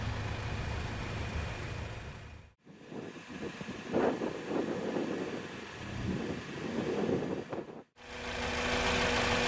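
A 2017 Lexus NX200t's 2-liter turbocharged four-cylinder engine runs with a low, steady rumble, dropping out briefly twice before returning.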